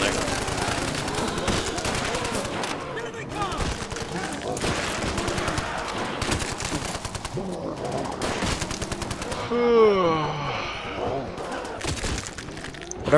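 Rapid Browning machine gun bursts rattle constantly through a Nazi Zombies video game match, loud and unbroken, with shattering effects and a rising whine near the end, while players talk over it.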